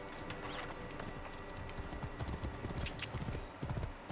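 In Assassin's Creed Origins, a horse's hooves clip-clop in a quick, steady gallop-like rhythm, close and continuous under faint game ambience.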